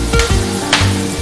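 Giant river prawns fry in butter and oil in a hot pan, a loud crackling sizzle with sharp pops and a metallic clank, close up and without talk.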